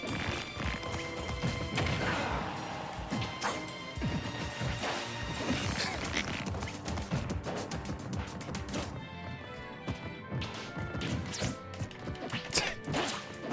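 Forward smash attacks landing in Super Smash Bros. Ultimate, a dense run of sharp game hits and crashes with whooshes and thuds, steady and fairly loud throughout with no talk.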